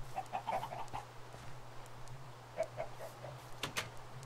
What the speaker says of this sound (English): We got us our chickens into their pen.